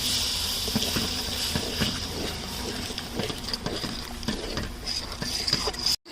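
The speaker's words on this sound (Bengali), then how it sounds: "মশলা বাটা জলটা দিয়ে দিচ্ছি।" Water from ground spice paste poured into a pan of frying spices while cooking vegetarian cabbage kofta curry, a steady close gushing and sizzling splash that cuts off abruptly at the end.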